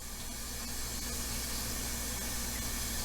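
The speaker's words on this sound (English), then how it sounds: "And fill up the washer. Takes a couple minutes to fill this up" Water pours into a small Panda washing machine, a steady even hiss and rush of filling water that runs unbroken throughout, close and fairly quiet.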